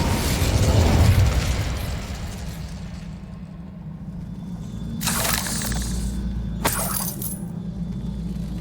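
Incendio fire spell cast in the Hogwarts Legacy video game, a loud whooshing blast that fades, then two sharp bright bursts over a steady low rumble of game ambience.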